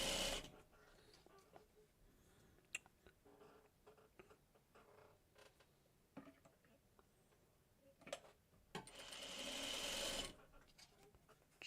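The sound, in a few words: sewing machine chain piecing quilt blocks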